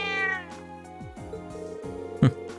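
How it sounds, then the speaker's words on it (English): A cat meows in the PS4 role-playing game Trails of Cold Steel: one clear, drawn-out meow at the start, then a short sharp cry near the end, over soft game music. "Crow started playing with the cat."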